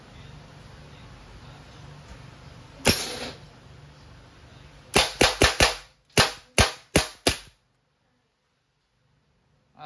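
Umarex PX4 Storm dual-ammo blowback airgun firing lead pellets from a rotary magazine: one sharp, loud crack, then after a pause a rapid string of about eight snapping shots in two quick bursts, followed by quiet.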